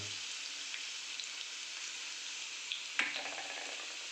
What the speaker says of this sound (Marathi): छान मध्यम आचेवर त्याला परतून आपल्याला घ्यायचं लसूण